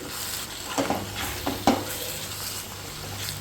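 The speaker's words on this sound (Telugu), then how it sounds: "ఇది కూడా కొంచెం మంచిగా ఫ్రై అవ్వాలండి." Ginger garlic paste fries in hot oil in a pan, giving a steady soft sizzle broken by a few sharp scraping strokes of a spoon as it is stirred, close and fairly loud.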